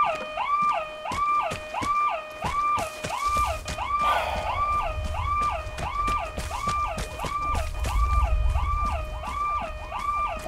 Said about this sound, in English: I wait for that alarm to stop doing its thing.